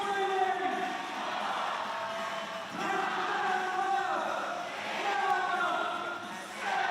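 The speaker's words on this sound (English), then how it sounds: "You can hear the entire crowd counting his reps." A crowd at an elite CrossFit-style competition, the Down Under Championship, chants in unison around an athlete, voices swelling and dipping in waves of rhythmic counting that fill the space at a steady, loud level.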